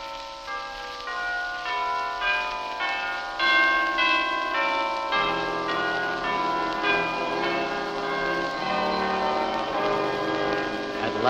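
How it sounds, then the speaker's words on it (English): Church chimes ring out in a steady sequence of bright, sustained bell tones, overlapping and resonant, with no voices over them. "At last, the glorious chimes were ringing."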